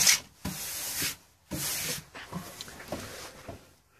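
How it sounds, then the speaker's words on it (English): Sandpaper of 300 grit rubbed over cured POR15 rust paint in short back-and-forth strokes, a close, gritty scraping in several bursts with brief pauses between them. "that's what happens when you rub 300 grit on POR"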